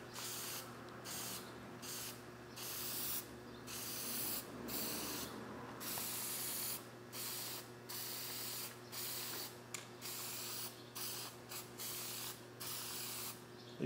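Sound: spray paint misting over star stencil on car hood

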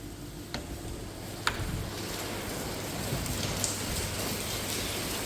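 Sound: heavy rain falling

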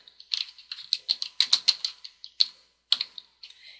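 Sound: typing full name on a computer keyboard

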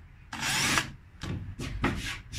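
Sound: drilling shallow holes in boat repair insert for screw heads

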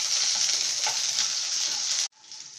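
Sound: small onions frying with mustard seeds

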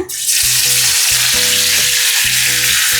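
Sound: garlic frying in hot oil

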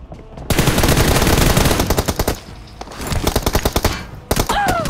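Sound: gunfire tap-firing in a mobile shooter video game

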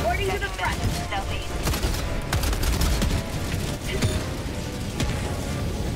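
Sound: mortar fire and explosions in video game Helldivers

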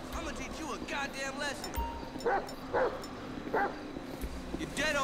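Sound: dog barking in the video game GTA 5

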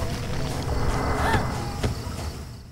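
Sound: car engine running in Silent Hill 4 video game

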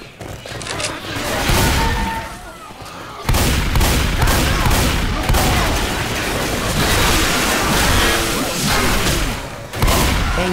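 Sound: gunfire from survivors shooting, Left 4 Dead 2 video game

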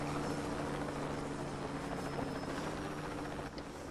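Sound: helicopter flying in video game

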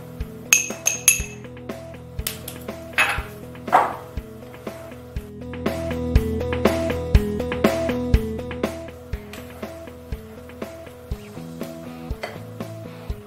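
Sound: mixing parmesan into batter in a glass bowl

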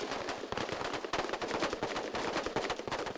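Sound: soldiers firing rifles in training

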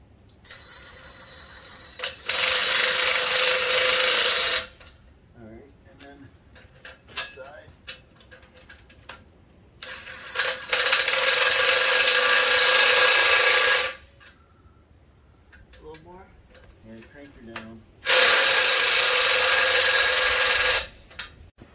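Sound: impact gun tightening bolts on log splitter cradle

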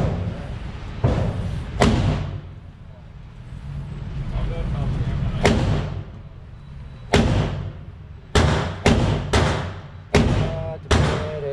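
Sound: Magnum Research Desert Eagle .44 Magnum pistol shots

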